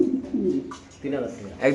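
Pigeons coo in low, throaty bursts, close by, with a few pauses between the calls.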